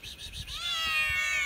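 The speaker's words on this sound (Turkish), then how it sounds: "Oo, hemen de miyavlıyorlar." Several cats meow close by, with overlapping drawn-out mews in a loud, wavering chorus and a low rumble of background noise beneath.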